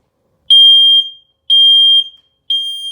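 A Nest Protect smoke detector sounds its alarm during a smoke test, three loud, shrill, evenly spaced beeps about half a second each with brief gaps, close and alone.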